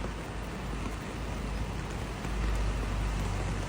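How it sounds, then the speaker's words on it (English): Heavy rain pours down at Manly Beach in Sydney, a dense, steady broadband hiss and roar with no breaks, swelling slightly louder toward the end, no voices heard. "It is pouring down rain here at Manly Beach."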